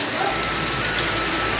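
Steady rain hisses evenly, a dense, constant patter with no voices or other sounds.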